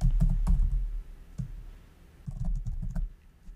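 Keys tapped on a computer keyboard while entering a register value for an STM32 ARM microcontroller, a few bursts of close clicks separated by a short pause.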